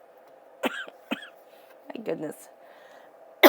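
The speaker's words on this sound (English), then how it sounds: "I just choked, right? And coughed." A woman chokes and coughs in a quiet indoor room: a few sharp, separate coughs and throat-clearing bursts, near and fairly loud, with a brief spoken exclamation between them.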